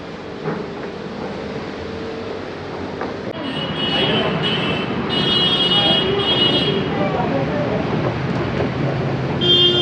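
A Pune Metro train rumbles and whines steadily from inside a carriage, the noise swelling as it picks up speed, with faint talk underneath.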